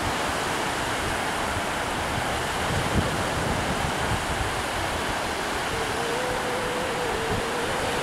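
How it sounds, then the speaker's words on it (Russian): Small sea waves wash steadily onto the Riga seaside shore in September, a continuous broad hiss and rumble with some wind buffeting and no voices. "На море небольшие волны."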